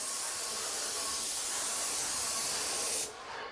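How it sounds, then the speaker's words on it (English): A paint sprayer sprays along a skirting board, giving a steady, close, even hiss that runs for about three seconds before cutting off abruptly, leaving a quieter tail. "Okay, so now I'm going to start spraying."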